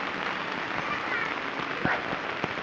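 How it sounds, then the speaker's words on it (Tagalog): Heavy rain pouring down on a flooded neighborhood without drainage, a constant hissing patter on surfaces with a few sharper drip hits, close and steady. "malakas yung tubig pag umuulan."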